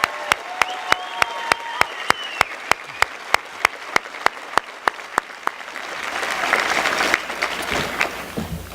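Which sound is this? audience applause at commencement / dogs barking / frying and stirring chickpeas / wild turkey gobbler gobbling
audience applause at commencement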